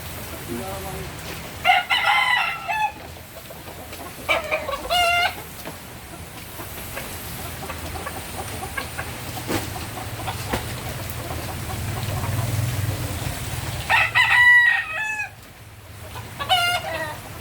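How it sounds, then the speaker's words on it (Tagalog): Chickens cluck steadily in the background while roosters crow loudly in three separate bursts, close by, with a low rumble and some distant talk underneath. "Talaga yung mga manok na to."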